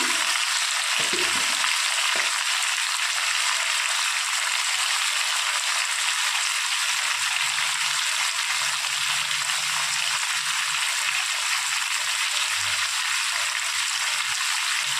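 Chicken sizzles loudly in hot oil in a pan while cooking biryani, a steady close hiss with a few stirring knocks early on.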